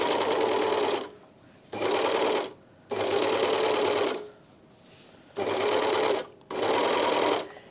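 A sewing machine stitches fabric around a trouser zip in five loud, steady bursts of rapid whirring, each lasting about a second, separated by short pauses.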